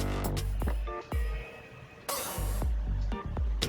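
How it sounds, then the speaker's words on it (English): A small ratchet tightening a brake caliper slider bolt on a Mazda 3, giving short runs of close, crisp clicks, broken by a brief hissy burst partway through. "I'm using a small ratchet to tighten the slider bolt"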